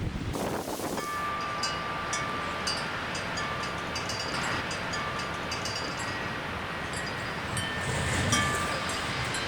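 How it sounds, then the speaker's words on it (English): Steady outdoor wind buffets the microphone in a broad, continuous rush that swells slightly near the end, with a faint sustained tone beneath it during an air rifle shooting session. "it's just as windy out"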